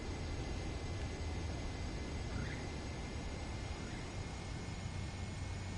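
Fighter jet engine in Ace Combat 7, a steady, broadband roaring rush with a faint tonal whine, constant and unchanging, loud and close, with no talk.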